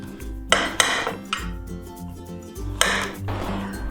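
Knife cutting through zucchini on a board for a zucchini lasagna, several distinct chopping knocks and scrapes in a loose rhythm, close and fairly loud, with faint kitchen clatter between strokes and no talking.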